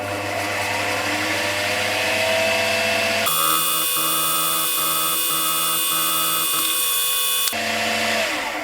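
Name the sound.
end mill cutting metal for lathe dogs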